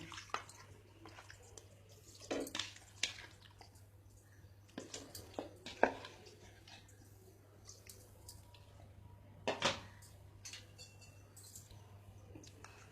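Raw mutton pieces go into a pressure cooker with a few soft, wet squelches and drips at irregular intervals, close by over a steady low hum.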